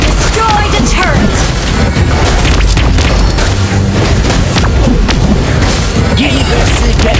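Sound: turret destroyed explosion in video game Mobile Legends

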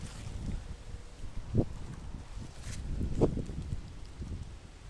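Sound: strong wind blowing at a pond

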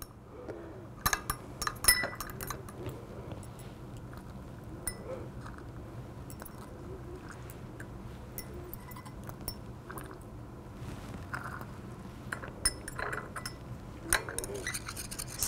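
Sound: stirring benzoic acid dissolving in hot solution

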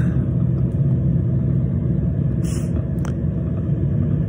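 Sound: car driving on the road

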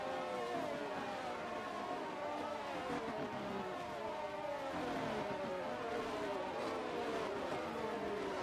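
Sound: race cars on the grid in F1 22 video game

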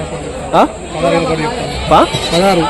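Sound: goats bleating at an animal market

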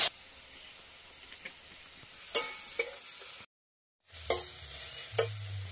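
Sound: spices with Kashmiri chili powder being stirred and sautéed in pan

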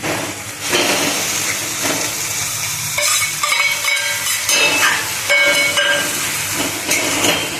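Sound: eggplant added to hot spiced masala, sizzling

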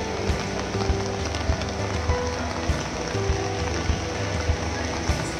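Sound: moderate rain falling at a temple festival

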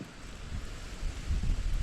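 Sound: wind blowing

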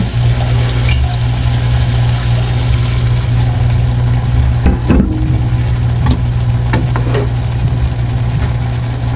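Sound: pouring broth into pan of cooking bitter gourd

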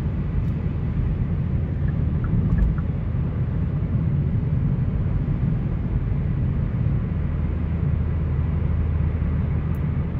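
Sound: Hyundai Elantra GT aFe axle-back exhaust cruising at 65

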